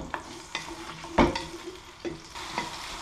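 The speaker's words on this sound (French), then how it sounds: "on va faire revenir, plutôt infuser et revenir nos légumes dans l'huile d'olive comme ceci" Vegetables sautéing in olive oil with a bouquet garni, a soft sizzle broken by several distinct scrapes and clacks of a spoon stirring the pan, close by.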